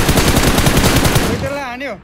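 Rapid video game gunfire rattles loud and close in a dense automatic burst, fading out after about one and a half seconds as a voice begins to speak.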